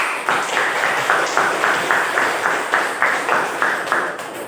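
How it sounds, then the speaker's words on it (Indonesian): A classroom of students claps for a student group, producing steady, rhythmic bursts of applause that repeat evenly at close range. "Tepuk tangan untuk kelompok tanah"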